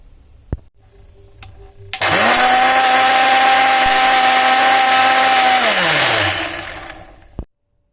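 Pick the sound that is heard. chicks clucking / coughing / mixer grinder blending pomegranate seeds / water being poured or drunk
mixer grinder blending pomegranate seeds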